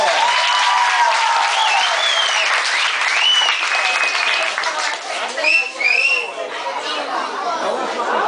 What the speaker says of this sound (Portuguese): Uma salva de palmas para o Quartito!